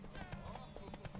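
A horse gallops in The Witcher 3: Wild Hunt, its hooves beating in a rapid, steady rhythm amid other game sounds.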